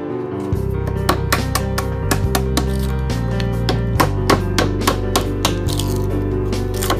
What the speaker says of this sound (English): I started off by removing the bark off the logs with a chisel and hammer